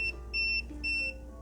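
Two short, steady electronic beeps from a multimeter checking the input capacitors of an SDGR 400BX being repaired, each lasting about a quarter second with a pause between, set over a low background hum.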